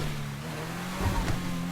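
Car engine in GTA holding a steady drone, then revving and accelerating with a brief surge of power and a faint tire squeal near the end, close and fairly loud.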